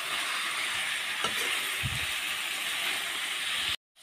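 Duck meat and potatoes fry in a pan, giving a steady close sizzle and hiss throughout. A brief stir scrapes in partway, and the sound cuts off abruptly at the end.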